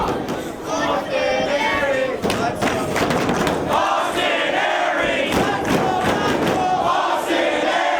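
A Long Island wrestling crowd roars and cheers during a title match, a loud sustained wall of shouting voices with thuds and bursts of yelling rising and falling throughout.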